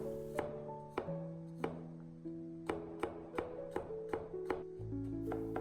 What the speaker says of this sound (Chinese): 然后再剁成稍微细一点的蒜末